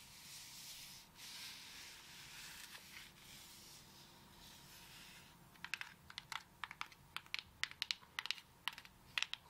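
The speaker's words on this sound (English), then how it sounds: "We do a rub, finger pad, tap, rub, finger pad, tap." Long acrylic nails tap and rub across a coconut shell, a soft continuous scratchy rubbing for the first half giving way to a run of quick, crisp, close taps and clicks with no voice.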